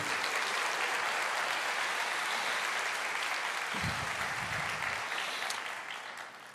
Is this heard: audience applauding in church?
yes